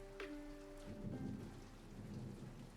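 Steady rain falls with a low thunder rumble during a Sims 4 gameplay storm, soft and continuous with no talking, plus a brief faint tonal game chime near the start.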